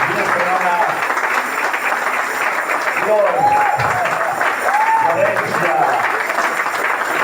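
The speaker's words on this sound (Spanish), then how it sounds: "Un fuerte aplauso al Señor" Steady congregational applause fills a church service after the preacher is acclaimed, dense and sustained throughout, with voices shouting and speaking over it.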